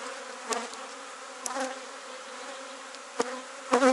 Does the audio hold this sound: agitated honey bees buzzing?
yes